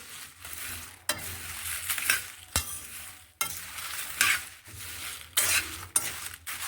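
Whole garam masala spices are stirred and dry-roasted in a pan, giving bursts of rattling scrapes and dry sizzle that come in repeated strokes with short pauses between, close and moderately loud.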